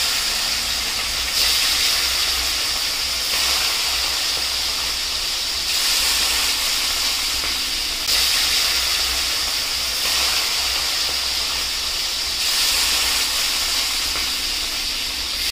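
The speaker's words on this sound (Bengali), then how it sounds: "আমি দিয়ে দিচ্ছি, মাছগুলো ভেজে নিচ্ছি।" Live fish pieces frying in hot oil in a kadai, a loud, steady hiss of spitting oil that runs the whole time and swells in waves every couple of seconds, with no voices.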